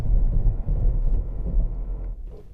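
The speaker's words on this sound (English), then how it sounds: "So the sound you hear is the ABS working," A Toyota RAV4 brakes hard on a snowy road as its ABS works, giving a loud, close, low rumbling judder that fades near the end.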